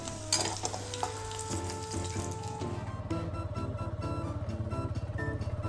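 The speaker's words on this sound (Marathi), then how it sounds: "दुसरीकडे कढईमध्ये आपलं आमटीच्या वाटणाचं जिन्नस भाजतात छान" Amti masala ingredients roasting in a kadai, with a steady sizzle and frying crackle, and stirring scrapes over a continuous low hum, plus a few brief tonal sounds early on.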